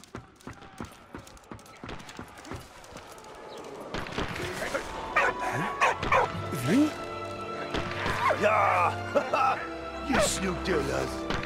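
A small dog barks and yips in the World War I video game Valiant Hearts: The Great War, short repeated barks mixed with game music and other effects, with someone talking over much of it.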